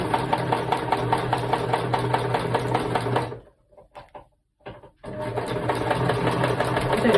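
A sewing machine stitches a quilted tote bag in a steady, close, rapid mechanical rattle, pausing briefly mid-clip with a few faint handling sounds before the stitching resumes.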